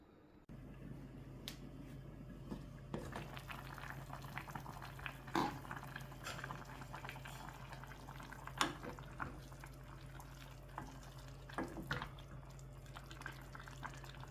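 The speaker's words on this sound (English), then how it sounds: "turn the gas down to a simmer, put the lid on and just let that cook slowly for about 30-35 minutes" Leftover vegetable soup simmers in a covered pot on a gas hob, a faint low bubbling hum dotted with scattered soft pops and ticks, quiet throughout and with no voices.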